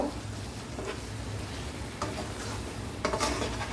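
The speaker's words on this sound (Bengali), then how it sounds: "খুব ভালো করে মিক্স করে কষিয়ে নেব।" Chicken curry with tomato ketchup being stir-fried in a pan, a steady close sizzle with occasional scraping and clinking of a spoon against the pan, no talking.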